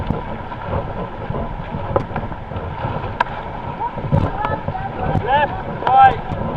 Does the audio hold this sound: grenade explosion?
no